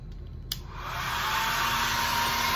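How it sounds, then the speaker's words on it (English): A hair dryer clicks on and ramps up into a loud, steady blowing roar aimed at a house of popsicle sticks, holding to the end. "Will it blow down with the hairdryer?"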